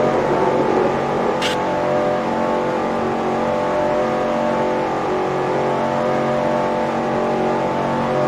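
Race car engine held at full throttle in the NR2003 racing video game, a loud, steady droning roar with dense harmonic tones, sustained without change throughout, with no talking.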